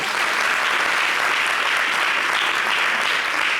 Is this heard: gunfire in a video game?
no